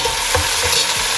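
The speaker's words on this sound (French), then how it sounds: "Maintenant, je vais rajouter les carottes." Carrots tumble into a frying pot of simmering turkey stew, giving a brief loud close sizzle with soft stirring thumps and no voices.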